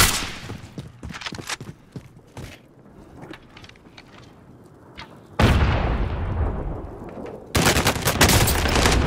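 Gunfire in Call of Duty: Modern Warfare, scattered sharp shots early, then loud sustained bursts of rapid fire in two heavy stretches near the end, close and dense.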